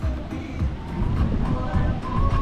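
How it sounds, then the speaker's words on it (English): Steady surf washing onto Sardinera Beach in Hatillo, Puerto Rico, a broad continuous rush with gentle swells, some wind noise, and faint voices in the background. "And this is the beautiful beach."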